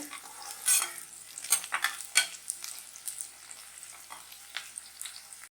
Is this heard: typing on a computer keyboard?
no